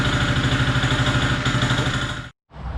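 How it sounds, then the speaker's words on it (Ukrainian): Honda engine on an M80H concrete power trowel, with a clear knock between crankshaft and connecting rod, runs loud and close with a steady rapid clatter, cuts out abruptly, then restarts. "відчути явний цокіт між колінвалом і шатуном"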